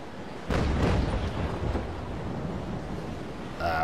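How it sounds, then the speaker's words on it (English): Ship cannons firing cannonballs in a naval video game boom out in one heavy, rumbling blast that rolls off into a long windy, surf-like wash. "So as we're at long range, I'm still using the normal cannonballs."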